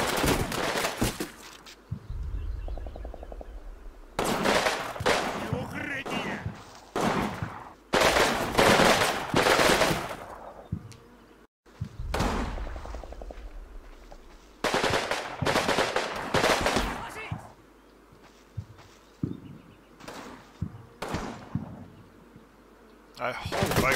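Repeated bursts of loud, dense gunfire from the wartime strategy game Combat Mission Fire and Rubble come in spaced clusters, with short quiet gaps in between.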